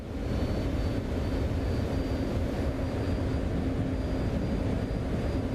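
F-14 jet in a flight simulator, engine throttling up into a steady, dense roar with a faint whine on top, loud and constant throughout.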